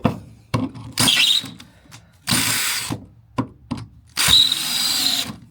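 A power drill with a slipping chuck struggles to bore through a fence, sounding in several short bursts. Loud whirring stretches are broken by pauses and ratcheting clicks.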